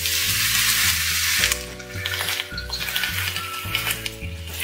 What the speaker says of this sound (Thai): ปรุงรสด้วยน้ำมันหอยนะคะ